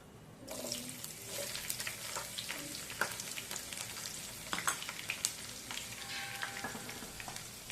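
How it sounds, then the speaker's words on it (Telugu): Onions and chana dal fry in a hot pan, giving a steady, close sizzle with scattered crackles and spatters that runs the whole time, with no voices over it. "ఇప్పుడు ఆనియన్స్ కూడా వేస్తున్నాను"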